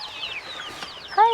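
A backyard hen, the mother of a brood, clucks and squawks close by in a few short bursts after a rainstorm, with a louder, rising call at the end.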